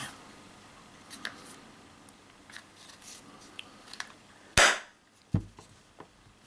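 A single sharp, loud gunshot-like bang from an Umarex Impax P68 CO2 air pistol fired into a pillow, followed by a fainter metallic click; soft handling noises come before it.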